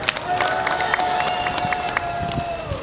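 Crowd of people from Njombe clapping and cheering at an outdoor national tree-planting and World Forest Day gathering, a steady dense wash of applause with scattered sharp claps throughout.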